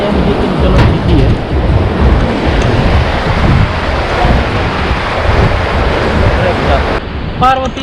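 The Malana River rushes near Kasol in the Parvati Valley, a loud, steady broadband roar with heavy wind buffeting on the microphone throughout and no clear talking.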